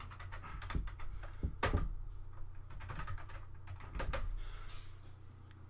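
Keys clatter on a computer keyboard as a terminal command is typed, a close, steady run of keystrokes with a few louder taps.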